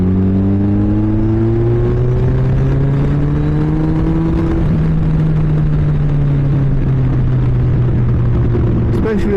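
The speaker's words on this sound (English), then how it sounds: "Bike sounds so good." A fast motorcycle engine revs hard and close, its droning tone climbing steadily in pitch through the gears before a brief drop, loud and continuous with no speech.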